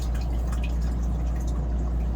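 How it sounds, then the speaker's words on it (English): A 2006 Tiffin Allegro Bay RV toilet flushing and refilling from the onboard pump, heard as a dense, constant rush of water with a strong low hum beneath it, close and loud throughout. "Toilet, partially down, we'll flush it and fill it."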